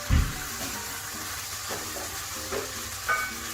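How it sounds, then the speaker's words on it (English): Dry white wine sizzles and bubbles in a risotto pan on full heat, a steady close hiss with a brief clatter at the start and faint stirring scrapes, no talking. "So you should hear a nice sizzle."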